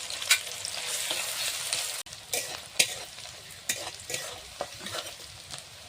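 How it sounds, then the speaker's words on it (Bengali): Chopped onions fry in hot oil with a dried red chilli and a bay leaf, a low steady sizzle cut by repeated scraping strokes of a spatula stirring the pan. "পেঁয়াজ কুচিগুলো দিয়ে দিব। তার মধ্যে দিয়ে দিব একটা শুকনো লঙ্কা,"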